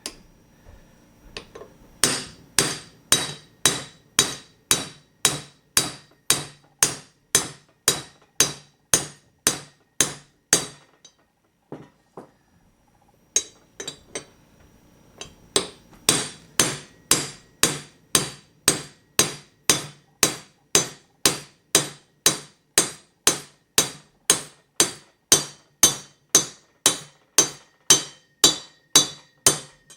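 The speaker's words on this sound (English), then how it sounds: "That sound is the socket bottoming out on the bottom of this lip." A socket is driven with steady hammer blows to seat a bearing in a Saginaw 800 power steering gear box. The metallic strikes come in a rapid, even series with a short pause partway, and the hammering stays loud and close throughout.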